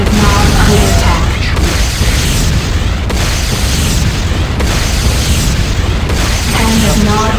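A structure blowing up in the video game Renegade, the Hand of Nod building, gives a loud, sustained rumbling roar of explosion and debris across the whole stretch, with repeated heavy bursts swelling and fading.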